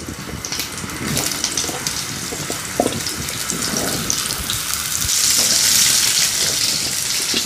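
Raw peeled water chestnuts frying in sesame oil with cumin and mustard seeds, a steady loud hiss with crackles and a few sharp pops throughout, no talk.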